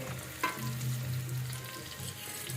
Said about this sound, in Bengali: এটা কো হালকা হালকা লাল লাল হয়ে ভাজা হয়ে গেছে